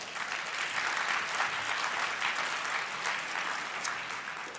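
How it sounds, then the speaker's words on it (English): Steady audience applause at the CDC EIS conference opening session, honoring scholarship recipients: a continuous wash of many hands clapping, even in level, tapering slightly at the end. "Give them a round of applause as well."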